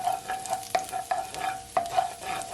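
Garlic sizzles in hot oil as a spatula stirs it in the pan, with a steady frying crackle broken by several distinct scraping strokes, close and fairly quiet.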